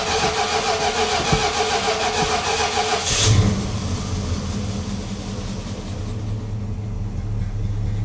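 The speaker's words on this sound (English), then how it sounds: "Alrighty, let's go ahead and start her up" A 1979 Dodge D-150 truck engine cranks with a steady whirring starter, catches with a loud burst, then settles into a rough, rumbling idle nearby.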